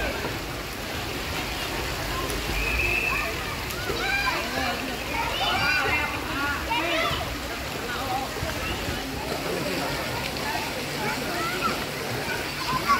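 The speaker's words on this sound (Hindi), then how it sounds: "देखिए कितना शानदार पानी यहाँ पे गिरता है" At a Visakhapatnam water park, water crashes down from a tipping bucket in a continuous rushing splash. People talk and children's voices mix in throughout.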